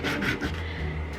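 Brief, close rasping scrape of sanding on plastic during repair of a longarm machine, a steady rough rubbing over about a second.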